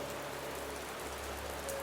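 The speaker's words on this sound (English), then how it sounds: "The pitter-patter of rain begins to kind of pick up." Steady rain pattering on a surface, a soft even hiss with faint drops, quiet and continuous with a low hum underneath.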